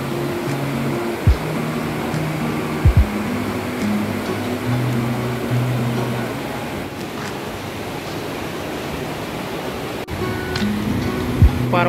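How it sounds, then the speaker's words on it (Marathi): Clear mountain water rushes through the Partnach gorge near Garmisch-Partenkirchen, Germany, as a loud, steady roar that fills the space. A few brief knocks and faint tones sound over it. "पर्वतातून खाली पाणी येत आहे, एकदम साफ।"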